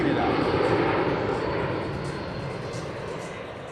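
A USAF C-17 transport jet roars loudly and steadily through an air show demonstration, a broad continuous engine rumble that eases slightly as it goes, with no pauses.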